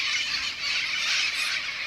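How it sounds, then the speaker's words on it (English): Migrating birds calling overhead, a dense continuous wash of high squealing and squawking from many birds at once, steady and fairly loud outdoors with no speech. "Some birds migrating."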